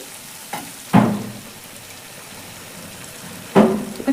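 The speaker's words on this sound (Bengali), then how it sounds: "টক দই দেওয়ার পরও আর একটু কষিয়ে নেব" Eggplant curry with sour yogurt sautéing in a pan, heard as a low sizzle broken by two heavy stirring scrapes spaced a few seconds apart, close and with no voice.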